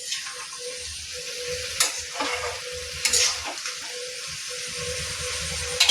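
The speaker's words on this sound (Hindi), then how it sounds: "मसाला में सबटा कोबी आलू के मिला देलिए बढ़िया जकाँ।" Cauliflower and potato are stirred into masala frying in a pan, with a steady close sizzle and occasional scraping strokes from the spoon. No voices can be heard.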